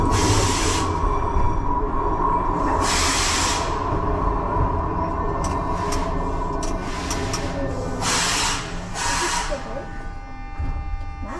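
A Metro 81-71 subway train on line B pulls away from the depot, its motors whirring and rumbling steadily throughout, with bursts of hissing air and rattling at intervals; nearby voices are also heard.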